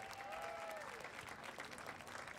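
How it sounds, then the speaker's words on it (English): Audience applause at the reopening of Ben's Chili Bowl after major renovations, a steady wash of clapping from a crowd that holds at an even level throughout, with a brief tonal whistle-like sound early on. "Give it another round of applause, please, ladies and gentlemen"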